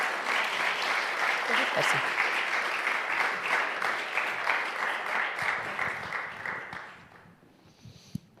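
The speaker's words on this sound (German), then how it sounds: "Gebt ihr doch einen Applaus." Church congregation applauding after a talk, a dense, sustained wash of clapping that fades out near the end, followed by a brief lull with faint scattered sounds.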